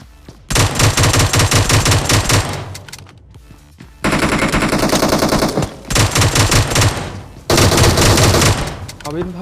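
Bursts of automatic gunfire from a squad fight in PUBG Mobile on the Erangel map, rapid loud volleys in three stretches separated by brief pauses, close and dense.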